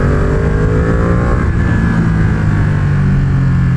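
A 2020 Ducati Panigale V2 motorcycle engine revving while being ridden, loud and close, with rising and falling revs across shifts and a continuous roar throughout, no talk.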